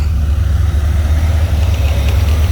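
A 1979 Chevrolet Corvette C3 with a swapped 6.0 LS V8 idles steadily at close range, a deep continuous rumble with a slight uneven lope and no talk over it.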